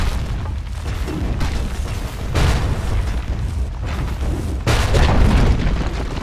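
Towers crumbling in a Dota 2 match, heavy booming blasts with rumbling debris, loud and close, swelling in bursts with a big impact near the middle and another near the end.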